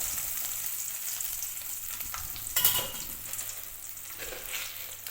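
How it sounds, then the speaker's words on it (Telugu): Small onions frying in hot oil in a pan for a raw mango and dried red chilli pachadi, giving a steady sizzle throughout with a brief louder stirring crackle near the middle. "నూనె వేడెక్కిన తర్వాత చిన్నులపాయలు వేసుకుందాము."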